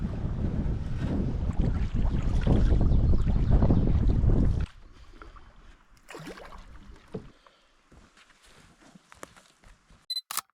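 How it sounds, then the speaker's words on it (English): Loud gusting wind on Winona Lake in Algonquin buffets the microphone for several seconds, then drops away, leaving faint lapping water and a few light knocks. "when it's windy and wavy like this"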